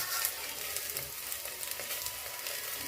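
Tomato frying in a pan of browned masala, a soft continuous sizzle with faint crackles and some stirring, quiet and even, with no one talking.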